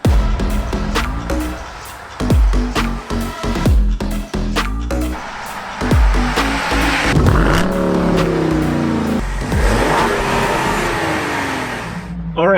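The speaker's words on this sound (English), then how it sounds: "This is modified Ford Explorer ST with E50 ethanol tune versus stock SRT." Two SUVs launch hard in a drag race, a modified Ford Explorer ST on an E50 ethanol tune against a stock Dodge Durango SRT, engines revving loudly through repeated rising gear pulls, close and sustained.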